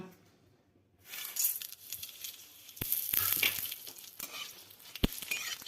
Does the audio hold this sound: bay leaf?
yes